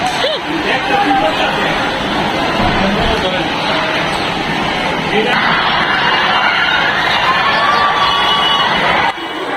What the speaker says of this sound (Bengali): ছুটির ঘন্টা বাজতেই ছাত্রীদের কত উল্লাস।